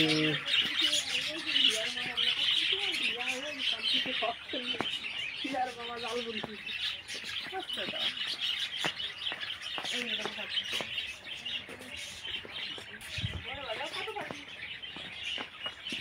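Several birds chirp and tweet in short bursts scattered throughout an eco park, moderately faint, with people talking quietly in the background.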